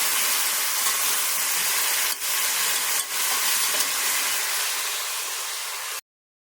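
Caramel with a little liquid cream is stirred in a pan off the heat, making a steady, loud hissing bubble with a couple of faint knocks before it cuts off abruptly.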